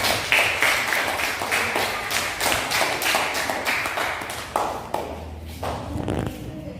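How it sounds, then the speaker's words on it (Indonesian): Classroom of students clapping together for two groups after a discussion, a close, dense patter of hands lasting several seconds and thinning toward the end. "kita kasih tepuk tangan dulu untuk kedua kelompok kita"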